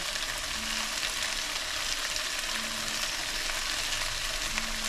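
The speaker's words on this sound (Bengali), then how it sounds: "আমি এর মধ্যে একটু পেঁয়াজ কলির পাতা নিয়েছি দেখুন এটা মিশিয়ে দেবো" Spring onion greens get stirred into prawns frying in a pan, under a steady, fairly quiet sizzle with faint scrapes.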